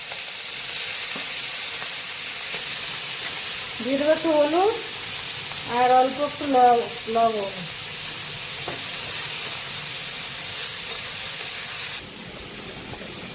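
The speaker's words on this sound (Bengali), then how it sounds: "এবারে চিংড়ি মাছটা আমি ভেজে নেব তেলে।" Prawns fry in hot mustard oil in a kadai with turmeric and salt, giving a steady, bright sizzle that runs under speech and drops to a quieter hiss near the end.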